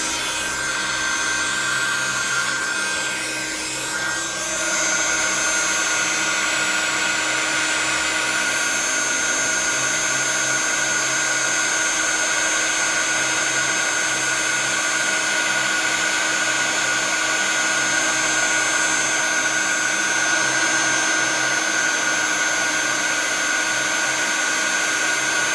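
A heat embossing gun runs nonstop, its steady hot-air blower roaring loud and close over embossing powder in a scrapbooking setup, a constant whirring hiss with a fan whine and no voices.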